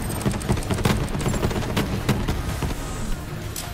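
Rapid gunfire fills a Borderlands 3 raid boss fight against Hemovorous, with dense bursts of shots and sharp cracks overlapping continuously amid game effects.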